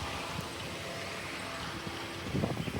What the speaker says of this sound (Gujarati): વાવાઝોડું ફૂલ છે. પાયરો ફૂલ પવન ફૂંકાય છે.